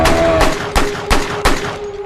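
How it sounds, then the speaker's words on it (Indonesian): Four sharp, loud rifle gunshots crack in quick succession about a third of a second apart, each with a short echoing tail, as a deer is shot in Alaska. "Chris langsung melepaskan sebuah tembakan hingga rusanya koit"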